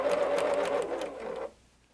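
A sewing machine stitches orange fabric pieced onto blue, running in a loud, steady whir close by for about a second and a half before stopping abruptly.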